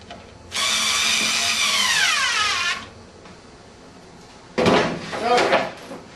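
A power drill drives screws into a homemade exercise slide board, whirring steadily for about two seconds, winding down, then a second rougher, louder burst after a pause, close and alone.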